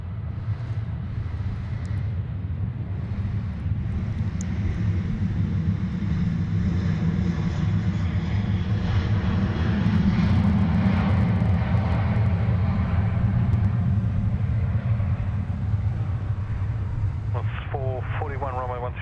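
Airliner landing on runway 16 left at Sydney Airport, a loud continuous low jet roar from close by for the whole stretch, with radio voices talking partway through.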